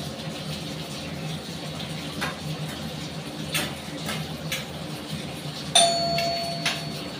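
A doorbell chimes once in a home kitchen, a bright ringing tone that rises sharply above steady background noise of cooking and room sound, lingering briefly before fading.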